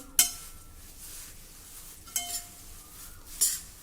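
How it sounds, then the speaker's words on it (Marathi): A spoon stirs poha flakes coated in oil and turmeric in a pan, giving soft scraping and rustling with three sharp metallic clinks against the vessel, fairly quiet and close. "तेल आणि हळद सर्व पोह्यांना व्यवस्थित लागेल या प्रकारे मिक्स करून घ्या"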